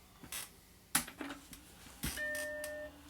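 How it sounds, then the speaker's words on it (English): Macintosh Classic computer powering on from a new boot disk, giving its startup chime: a sustained tonal chord near the end, following a few brief mechanical clicks and clunks. "I love hearing the chime."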